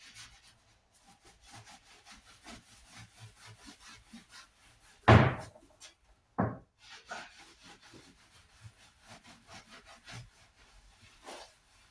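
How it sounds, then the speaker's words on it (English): Scraping excess glue off screwed-together timber during a VW LT31 Karmann Distance Wide camper rebuild, repeated close rubbing strokes broken by a couple of sharp knocks. "Just going to take off the excess glue."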